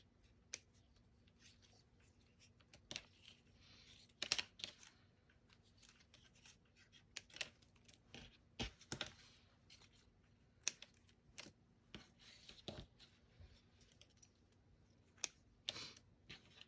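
Scissors snipping apart a chain of machine-sewn paper butterfly tags, sharp close clicks scattered irregularly in a quiet room, some in quick pairs, with faint paper rustle between cuts.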